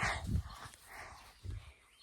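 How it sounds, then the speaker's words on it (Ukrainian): A dog that has wandered up makes a few soft, low vocal bursts near the start and again around the end, faint and rough against quiet outdoor background. "А дивіться, прийшла собака."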